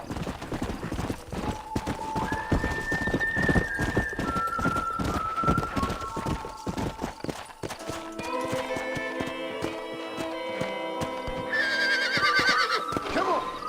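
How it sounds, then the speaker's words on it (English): A horse in the video game Red Dead Redemption gallops with rapid, rhythmic hoof clops, then gives a long, loud neigh and whinny. Music plays underneath and builds toward the end. "Apareceu outro cavalo agora, rapaz."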